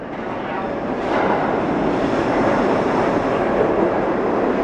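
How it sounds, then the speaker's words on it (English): A subway train roars into the station with a broad, rushing rumble that swells after a second and holds steady, loud and close. "Oh, here comes the train."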